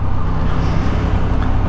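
A Honda Hornet 750 motorcycle accelerating hard on the road, a loud, dense engine roar held steadily throughout at close range, with no voices.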